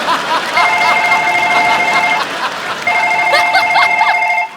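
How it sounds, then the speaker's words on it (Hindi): A phone rings on a Kapil Sharma comedy show set. Two bursts of a steady electronic ringtone pattern repeat across several seconds, with faint voices and chuckles beneath. "हमारा फोन वाइब्रेशन पे है"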